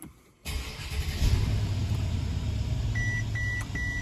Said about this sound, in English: we're going to start the car up